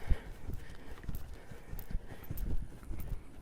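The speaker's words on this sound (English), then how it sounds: "We'll step into the canter because he's pretty well warmed up." A warmed-up dressage horse canters in a schooling session, its hooves striking in a quiet, rhythmic clip-clop that rolls along in groups of beats at moderate distance.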